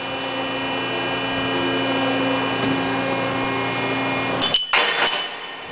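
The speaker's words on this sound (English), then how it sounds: "Mubea Ironworker, 6-inch by half-inch plate." A Mubea 83-ton ironworker hums steadily while cutting a 6-inch by half-inch steel plate, then a sharp metallic crack and clatter as the shear goes through, near and loud.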